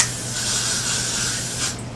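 Hair spray hissing steadily from an aerosol can onto the edges of a synthetic lace wig, one continuous close spray lasting nearly two seconds before tapering off.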